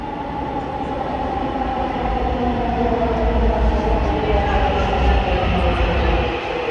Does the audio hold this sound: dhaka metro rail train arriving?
yes